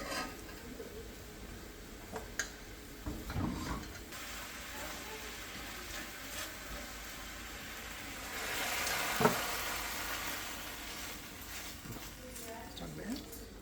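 Chicken for a stroganoff sizzles in a pan over a high flame, a steady frying hiss that swells louder toward the middle, with a voice talking over it.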